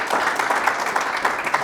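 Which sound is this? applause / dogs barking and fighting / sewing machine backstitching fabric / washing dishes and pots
applause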